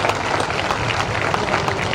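An audience at a Telangana gathering honouring a senior IAS officer claps loudly and continuously, a dense wash of many hands with a few voices in the crowd.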